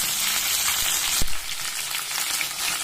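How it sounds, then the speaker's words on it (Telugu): Beans and other vegetables fry in hot oil in a pan, giving a constant close sizzling hiss, interrupted once by a sharp knock of a utensil against the pan. "బీన్స్, అన్ని వెజిటేబుల్స్ వేసి బాగా వేయించుకోవాలి."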